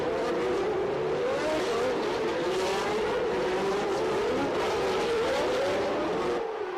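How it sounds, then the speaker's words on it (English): Formula 1 cars of the 1989 season race round the Loews hairpin at the Monaco Grand Prix, a loud, continuous engine roar with a shifting pitch and faint tyre noise throughout. "Round the Lowe's hairpin, perhaps the tightest corner in Grand Prix racing, only René Arnoux had alternative ideas about the line"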